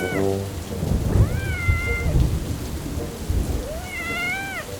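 Steady rain pours down with low rumbles of thunder, while a cat meows plaintively twice, nearby and clearly above the downpour.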